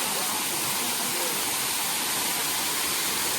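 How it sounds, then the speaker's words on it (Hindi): Waterfall of the Khadi river in the Lakkad Kot forest, heard as a steady, dense roar of falling water, continuous and fairly loud with no other sounds over it. "तो ये उस नदी का, खाड़ी नदी का जलप्रपात यहाँ पे आता है और बहुत अद्भुत जगह बनाता है।"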